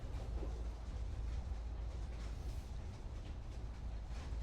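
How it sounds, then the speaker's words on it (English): Steady low rumble of a moving tram interior in the Syberia adventure game, a constant rolling drone with faint rattles, quiet and unbroken, no talking. "Yeah, I think it's just a tram interior."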